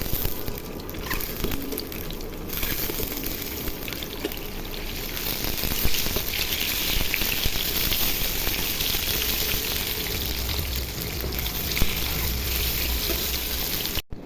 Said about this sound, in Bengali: তেল গরম হয়ে গেছে, এখন আমি ডিমগুলি ভেজে নিব।